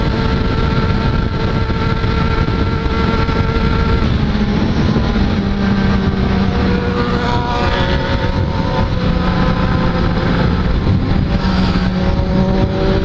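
A Yamaha XJ6 motorcycle rides through traffic, its engine a loud, steady drone with shifting tones as the rider changes speed, the road and wind noise constant throughout.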